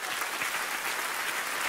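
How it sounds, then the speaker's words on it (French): A short burst of dense, steady applause from a small group, close and continuous with no voices above it. "on va t'applaudir quand même"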